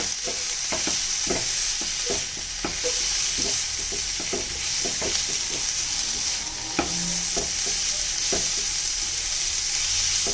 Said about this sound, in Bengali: এইবারে সবগুলো উপকরণ ভালো করে একটু মিশিয়ে নিতে হবে।